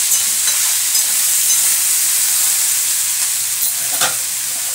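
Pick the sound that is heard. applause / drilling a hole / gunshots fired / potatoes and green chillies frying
potatoes and green chillies frying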